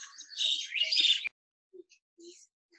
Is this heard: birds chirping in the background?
yes